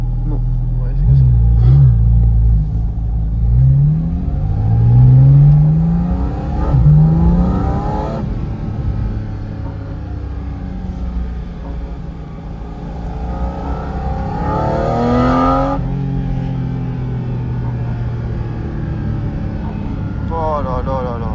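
Porsche GT4 RS flat-six in PDK Sport mode revving hard, rising and falling loud blips and pulls over a steady rumble, with people talking throughout.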